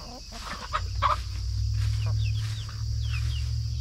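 Backyard chickens cluck and chirp in short bursts around a garden where hydrangeas are being planted, fairly close over a low steady background hum.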